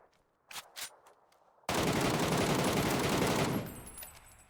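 Gunfire in a shooter video game: two quick single shots, then a sustained loud automatic burst of about two seconds that stops abruptly, with a fading tail. Close and dominant, no talk.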